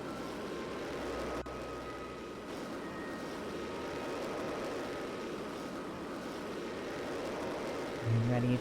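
A rocket engine in Kerbal Space Program gives a steady, low, muffled roar of thrust throughout, fairly quiet and continuous, with a voice talking over it at moments.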